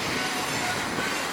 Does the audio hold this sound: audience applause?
no